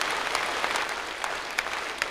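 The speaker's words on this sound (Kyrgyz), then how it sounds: "Калыстар тобуна конокторубузга бир кол чаап узатып коелу." A concert audience applauds the jury and guests, giving a short burst of steady, moderately loud clapping with no voices over it.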